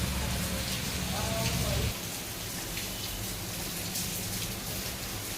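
Steady rain pours down in a continuous dense hiss, with a brief low rumble fading out early.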